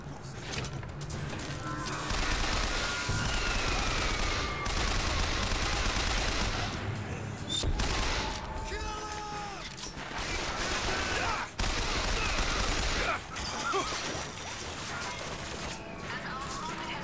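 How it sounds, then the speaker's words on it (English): Machine gun fire in the video game BioShock Infinite comes in repeated loud bursts separated by short gaps, with mechanical clanks and crashes mixed in and a voice talking at times. "Ooh, machine gun."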